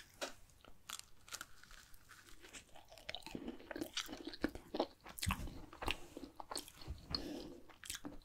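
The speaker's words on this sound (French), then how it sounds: "J'ai envie de goûter le petit macaron." A small lemon macaron is bitten and chewed at a birthday party, giving soft crunches followed by steady moist chewing close to the microphone, quiet and with no talking.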